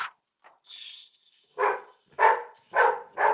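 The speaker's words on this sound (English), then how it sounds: "The neighbor dogs are barking too" Neighborhood dogs barking at night, a faint yip and whine first, then four loud, evenly spaced barks at fairly close range, with no talking.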